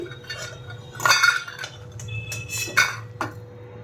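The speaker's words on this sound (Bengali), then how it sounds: "এবার বড়িগুলো একটা অন্য পাত্রে তুলে নিচ্ছি" Fried lentil dumplings (bori) are lifted out of a pot of mustard oil and moved into another pot, giving a few close metal clinks and scrapes of a utensil against cookware over a low kitchen hum.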